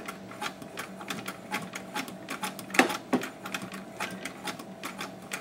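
A vintage Singer 66 sewing machine, hand-turned without its motor belt, stitches quietly with a fast, soft, steady ticking of the mechanism over low hum, with a couple of louder clicks midway.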